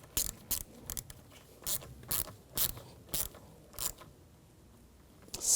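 A ratchet tightens the battery terminal on a 2011-2018 Volkswagen Jetta, giving a string of short, crisp clicking strokes at an uneven rhythm, close by, with no talk.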